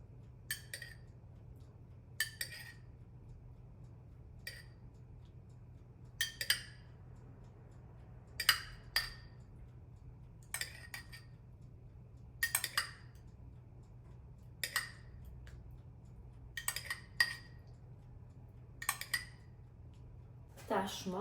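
A utensil knocks and clinks against a bowl while cake batter is mixed in a kitchen, sharp taps at irregular intervals of one to two seconds over a quiet hum.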